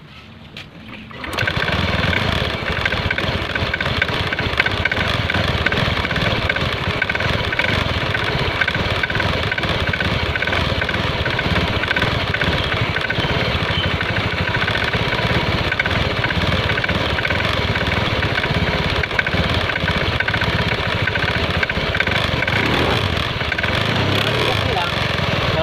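A Honda Scoopy scooter engine with a knocking fault in its CVT starts up and then runs steadily for about 25 seconds, close and loud, with a dense, continuous mechanical drone throughout.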